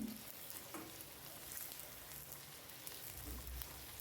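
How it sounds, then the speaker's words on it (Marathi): Onion pieces frying in oil in a home kitchen pan, a quiet, steady crackling sizzle that runs throughout with a few brief louder pops. "कांदा पण छान तेलावर परतून घ्यायचा आहे आपल्याला"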